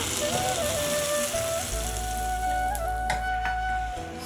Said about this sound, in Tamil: இப்போ தாளித்து குழம்போட சேர்த்துக்கலாம்